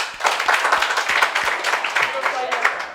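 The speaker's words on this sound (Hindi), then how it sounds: "सही हो तो कस के ताली बजाओ," Students in a class clap along briefly, a burst of loose, uneven claps mixed with a teacher's voice talking over them.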